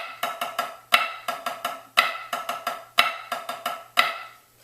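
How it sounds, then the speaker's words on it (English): Snare drum plays a flam drag rudiment with the accent on the downbeat: close, crisp strokes in repeating groupings, each starting with a louder accented hit followed by lighter grace-note drags, evenly paced and alone. "The first grouping is just your standard Flam Drag with an accent on the downbeat, which sounds like this."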